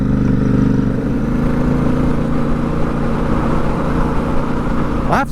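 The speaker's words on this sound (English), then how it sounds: "I have to say these exhaust pipes are so much nicer than I thought they were going to be." Custom Royal Enfield Interceptor twin exhaust droning steadily while riding on an open road, a close, continuous engine note with wind rush.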